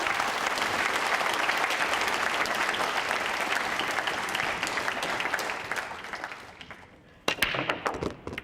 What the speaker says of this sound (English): I think you'll see some applause very shortly